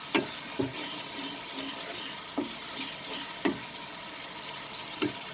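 Prawn curry with coconut milk stirred as it fries in a pan, a soft continuous sizzle with a few sharp spoon taps against the pan, nearby and fairly quiet.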